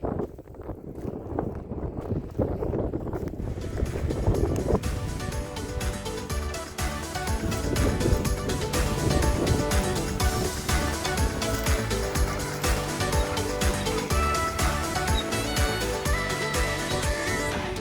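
Wind blows steadily across open Utah desert, buffeting the microphone with broadband rushing and rumbling that builds after a few seconds and stays strong throughout.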